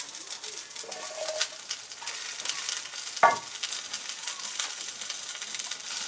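Carrot, onion and mushrooms, roughly chopped into thick chunks, sizzle with lamb shanks in a camp oven, a steady close hiss with a brief stir or clatter partway through.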